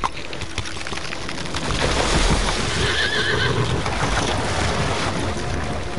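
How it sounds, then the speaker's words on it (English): A horse whinnies loudly in Assassin's Creed Valhalla, a long shrill neigh over rushing water-like ambience and hoof clatter. "that horse is going to get me killed."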